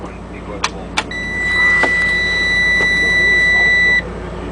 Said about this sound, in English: Time to fire this truck up.